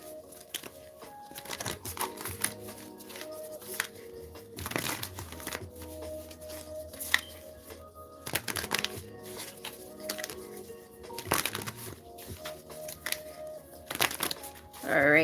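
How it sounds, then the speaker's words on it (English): Crisp papery riffling and soft card slaps repeat in bursts, a tarot deck being shuffled over and over at close range with short pauses between. "I'm gonna do a few more shuffles"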